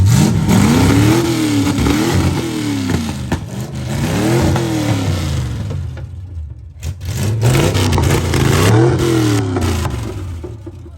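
A hurricane-damaged car engine that needs plugs, a tune-up and a carburetor adjustment revs hard in repeated rising and falling surges, loud and close, with a brief dip toward idle midway before climbing again.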